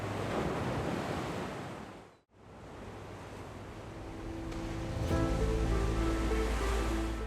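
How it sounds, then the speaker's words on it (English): Calm ocean waves wash and hiss in a steady broadband rush, briefly dipping to near silence before swelling again, with a low rumble and faint tonal hum rising toward the end. "When the hunt reaches its conclusion, the sea returns to its natural calm."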